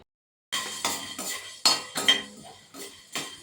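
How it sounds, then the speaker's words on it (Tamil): Coriander seeds dry-roasted over medium heat in a pan for rasam powder, stirred with a metal spoon: about seven sharp scraping clinks at an uneven rhythm, close and fairly loud, after a brief silence. "மல்லி வறுத்துக்குவோம். எல்லாம் மீடியம்லேயே வச்சு வறுத்து எடுத்துக்கணும்."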